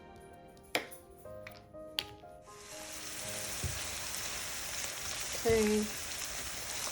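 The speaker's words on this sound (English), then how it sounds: "I'm sauteing, or saute, how do you say that? Fry a little bit the onions, actually half an onion" Half an onion with small carrots sizzles steadily in a frying pan, a bright hiss that rises and holds for several seconds after a few soft kitchen clicks, with a brief spoken word.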